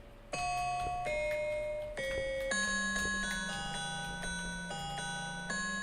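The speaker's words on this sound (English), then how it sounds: "I have a xylophone. Would that work for you?" A xylophone played in a short sequence of about eight ringing struck notes that step between pitches, each sustained into the next, clear and alone without voices.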